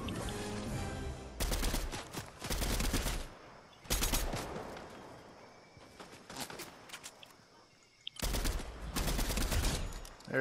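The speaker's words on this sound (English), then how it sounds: "someone's shooting at my tree" Video game gunfire rattles out in loud, rapid bursts: several sustained volleys with quieter pauses between them, and one sharp single crack near the end before the shooting resumes.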